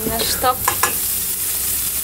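Bacon, mushrooms and tomatoes sizzle and crackle in a pan in a camper by a motorway, a steady frying hiss close by, with a brief voice over it.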